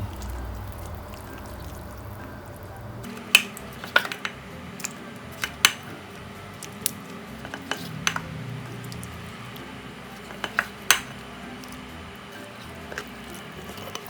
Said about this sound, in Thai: ตอนนี้ก็ น้ำเดือดแล้ว ก็ลวกเข้าไปได้เลยครับ